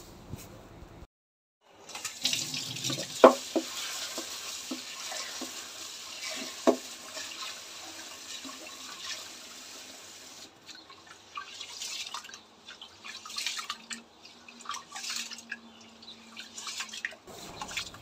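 Rice being rinsed under running tap water in a home kitchen: a steady close stream of water with splashing and sloshing, occasional clinks of the pot, and no talking.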